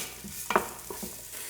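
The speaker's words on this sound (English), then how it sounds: "The first thing I add are the onions. And I let those cook just a little bit." Chopped onions cooking in a big, hot stock pot for vegetable soup, a soft steady sizzle with a few brief utensil clicks and scrapes, close by and without talk.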